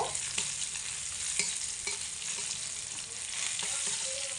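Carambola pickle with raisins being stirred in a hot pan, a steady sizzle with soft scraping strokes repeating at an irregular pace, close and fairly quiet, no voices.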